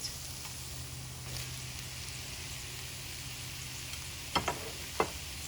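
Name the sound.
meat tossed back into pan sizzling with okra vegetables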